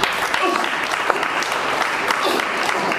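Church congregation clapping during a sermon, a dense steady patter of many hands that stays even and fairly loud throughout, with faint voices mixed in.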